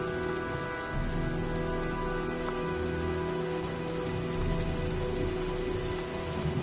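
Steady rain falls in the video game Heavy Rain, a continuous dense patter with a low droning ambience beneath it, holding at an even level throughout with no voices.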